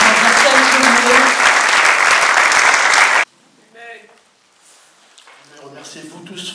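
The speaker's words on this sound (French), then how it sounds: "On peut encore applaudir le frère Franck, surtout pendant qu'il va s'" Loud applause from mourners at a funeral gathering fills the first three seconds, then stops abruptly, leaving faint voices and quiet talk.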